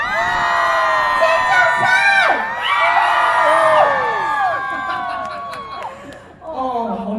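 A large crowd at a temple festival concert cheers and whoops loudly and continuously, with shouts and yells throughout. The noise fades slightly toward the end.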